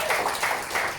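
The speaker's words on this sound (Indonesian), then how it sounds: "Tepuk tangan." An audience at a union meeting claps in a brief, close burst of applause with rhythmic hand claps.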